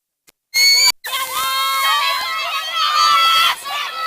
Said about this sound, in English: You can hear the cheers in the background.